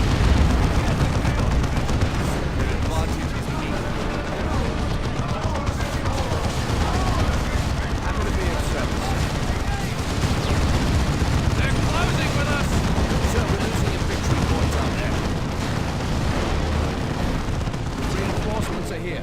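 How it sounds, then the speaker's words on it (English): Las cannon shots from Dawn of War II: Retribution are buried in a continuous, dense roar of battlefield gunfire and explosions that stays loud throughout. "One more las cannon shot, and there it goes."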